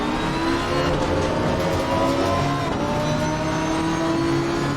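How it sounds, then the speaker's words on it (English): A V10 race car in ACC sim racing at Valencia screams at high revs, a loud, steady engine note with slight pitch shifts as it holds speed down a straight, with no talking. "Can't beat that V10 engine. It just sounds so good."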